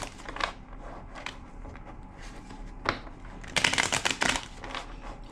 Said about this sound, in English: 2 more shuffles